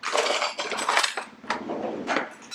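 Cherry tomatoes tossed with olive oil in a bowl give a quick run of close clinking and rattling knocks against the bowl's sides, with no talk.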